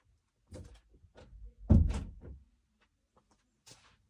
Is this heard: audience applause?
no